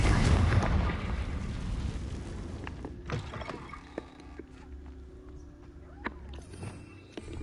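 A Confringo blasting spell explodes in Hogwarts Legacy with a heavy rumbling boom right at the start, then fades into quieter scattered crackles and footstep-like taps.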